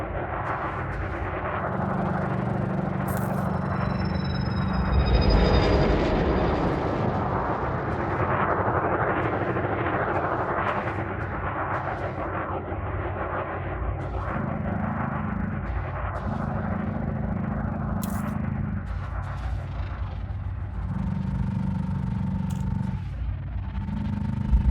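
A spaceship in Elite Dangerous pitches, yaws and rolls with a continuous low engine drone, shifting thruster hums and brief whooshing bursts as it maneuvers.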